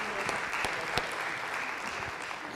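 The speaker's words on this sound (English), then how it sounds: "Once again, big round of applause for Miss Paula Miller." An audience at a school foundation awards ceremony claps steadily, with a dense run of applause and a few louder individual claps standing out.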